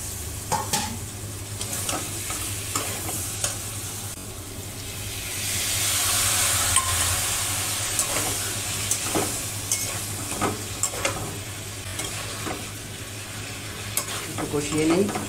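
Potatoes and pumpkin stir-fried in a pan: repeated close scraping of a utensil over a steady sizzle, with a hissing swell of steam midway and a low hum underneath.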